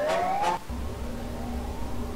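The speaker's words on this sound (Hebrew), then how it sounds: "אלוהים, אזעקה! תברח!" A wailing alarm siren in a SpongeBob video game, set in a restaurant, rises loudly for about half a second and then cuts out, leaving a low rumbling hum behind.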